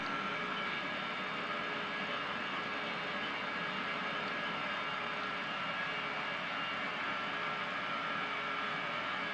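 Airliner engines at full takeoff throttle in a flight simulator, a steady, even roar with a whining tonal hum, constant and unbroken throughout with no voices.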